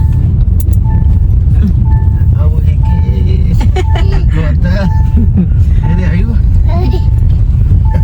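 A car drives through Goa, its engine rumble steady and loud beneath continuous talking inside the vehicle.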